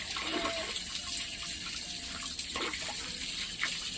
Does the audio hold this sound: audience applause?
no